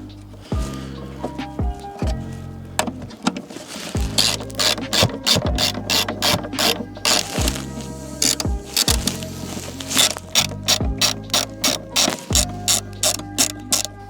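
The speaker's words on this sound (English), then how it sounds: "And now I'm going to install this top nut too." A ratchet tightens the top nut on a car battery terminal, giving loud, close bursts of rapid clicking separated by short pauses, with no voices.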